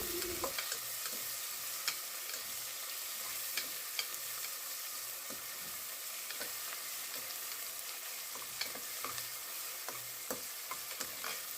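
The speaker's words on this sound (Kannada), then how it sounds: "ಈರುಳ್ಳಿ ಚೆನ್ನಾಗಿ ಗೋಲ್ಡನ್ ಬ್ರೌನ್ ಬರೋ ತನಕ ಅದನ್ನು ಚೆನ್ನಾಗಿ ಫ್ರೈ ಮಾಡ್ಕೊಳ್ಳಿ" Chopped onions fry in ghee in a pan for hotel-style ghee rice, giving a continuous soft sizzle with scattered faint crackles and pops, steady and undisturbed throughout.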